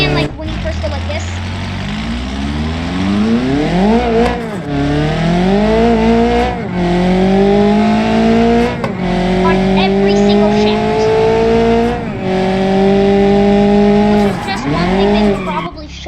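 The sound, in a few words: car turbo spooling in BeamNG.drive video game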